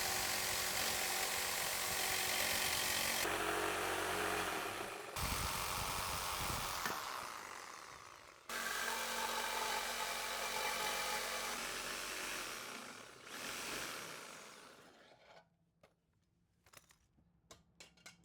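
Power tool cutting through a Toyota 80 Series Land Cruiser rear bumper, a loud, steady grinding whine running in several long bursts with brief pauses, then tapering to quieter clatter at the end.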